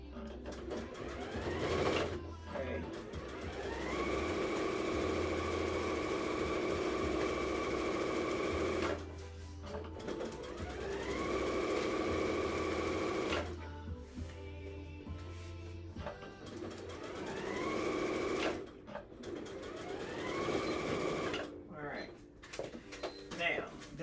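A sewing machine runs in several long bursts of steady stitching along a 5/8-inch seam, with brief back-stitching at the start and end and pauses in between; the motor hum is close and loud.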